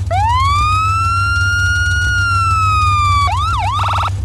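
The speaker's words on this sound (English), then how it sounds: "Now here's the new GTA Online police car." The GTA Online police car, added as a vehicle mod in Garry's Mod, sounds its siren close and loud: one long rising wail that holds steady, then switches to a fast yelping warble.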